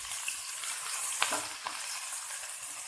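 Onions frying in hot olive oil, a soft, even sizzle that runs steadily with a couple of brief clinks and scrapes from stirring midway, fairly quiet and without speech.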